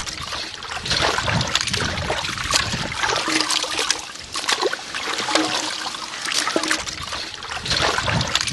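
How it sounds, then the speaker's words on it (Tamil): Chicken leg pieces are washed by hand in turmeric water, with steady close sloshing, trickling and splashing that continues without a break. "தண்ணியில் மஞ்சத்தூள் போட்டு சிக்கன் லெக் பீஸை நல்லா கழுவி எடுத்துக்கலாமுங்க."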